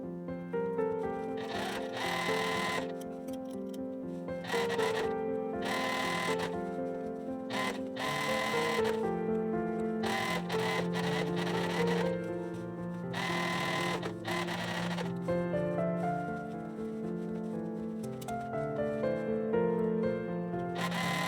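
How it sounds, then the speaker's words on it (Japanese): A sewing machine stitching around a box pocket on a high-neck coat, a steady mechanical whir that runs in bursts with brief pauses between runs, close and moderately loud. "ポケット周りを縫います。"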